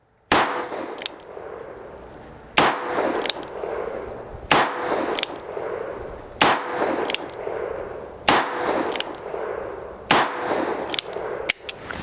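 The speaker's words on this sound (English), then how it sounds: "And there was my 6 rounds with the left-handed gun." Six sharp, loud shots from a Ruger Vaquero .357 Magnum revolver fired outdoors at a target, spaced unevenly about two seconds apart, each with a ringing decay, two of them followed by quick smaller cracks.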